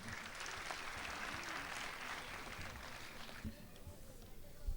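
Audience applause at a mushaira poetry gathering in Dubai, a dense steady clapping from a crowd that holds for several seconds, then thins toward the end.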